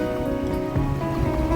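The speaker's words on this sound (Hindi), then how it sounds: "बारिश ठीक ठाक हो रही है यहाँ पे" Rain falls steadily outdoors at a nighttime Chand Raat Eid shopping bazaar in Toronto, a continuous patter over a low hum of crowd and ambient noise, fairly loud, without clear talking.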